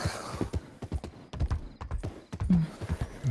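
Horse hooves clip-clop in a steady, close walking rhythm at night, with a brief neigh partway through and no talking.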